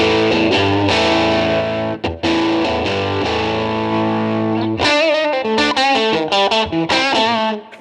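Electric guitar played through stacked boost effects on a Line 6 HX Stomp XL in a blues setting, loud and distorted: sustained overdriven chords ring out, then a run of choppy picked notes and bends.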